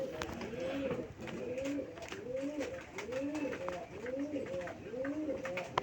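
Domestic pigeons sold as pet birds, cooing close by in a steady repeated rhythm of soft rolling calls over faint background noise.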